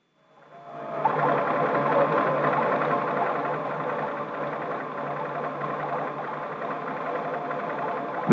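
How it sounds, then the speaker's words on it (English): A high-speed electronic computer runs with a steady, dense mechanical whirring and clatter that swells in after a second and holds at an even level throughout, with no voices over it. "This is a high-speed electronic computer."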